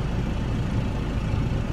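A Volkswagen Bulli van engine runs at a steady low idle, a continuous rumbling drone close by with no voices over it.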